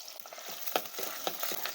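Soft, steady sizzling of small onions sautéing in hot oil, with light stirring scrapes at a gentle pace and no voices.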